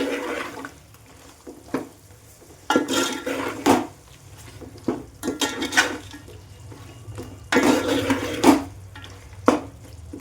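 Chicken being stirred with spices in a pan for gongura chicken curry, a spoon scraping and clattering against the pan in irregular bursts, close and fairly loud, with a soft hiss between strokes.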